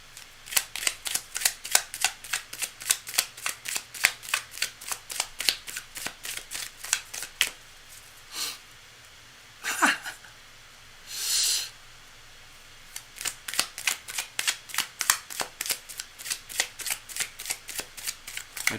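A deck of cards is shuffled again and again at close range, with quick rhythmic riffles in bursts, broken by a few brief rustles, and no talk.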